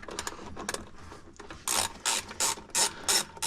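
Ratchet turning a 10mm socket on a battery terminal, starting with soft scattered clicks and then five loud, close bursts of rapid ratcheting clicks with short pauses between them.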